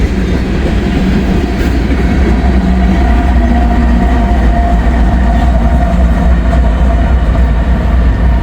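A freight train with a distributed power locomotive passes close by, a loud, steady rolling rumble with clickety-clack from the wagons that holds for the whole stretch.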